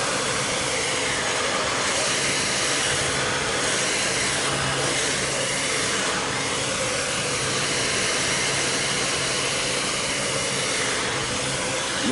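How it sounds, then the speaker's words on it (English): A painter's heat gun blows hot air over a faux marble painted surface, a steady, close, unbroken whooshing drone that barely changes for the whole stretch. "This heat gun gets really hot."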